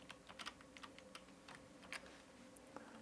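Steady typing on a computer keyboard, a run of close, light key clicks with uneven rhythm and a few harder taps, no voices.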